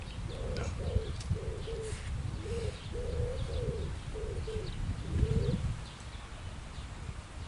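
A pigeon or dove coos in a repeated run of soft hollow notes over several seconds, outdoors against a rumbling low background with faint chirps.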